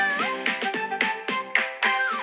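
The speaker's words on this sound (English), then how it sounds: "so he meowed on the way back home" An animated cartoon cat meows repeatedly in quick succession, about eight short, close, clear meows in a row with no talking.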